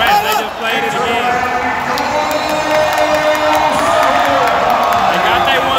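A large stadium crowd roars and cheers steadily throughout, a dense, loud wash of voices with scattered shouts and whistles, at the Open Cup final between Houston and Inter Miami.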